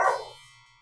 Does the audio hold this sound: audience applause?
no